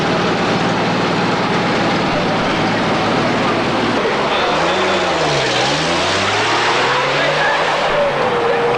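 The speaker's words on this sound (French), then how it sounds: "Nous voyons ici les départs des voitures qui ont plus ou moins été pénalisées." Rally cars pull away one after another at the start of a 1986 Congo rally stage, with a sustained engine roar and an engine note rising and falling as a car passes close by, under general outdoor noise.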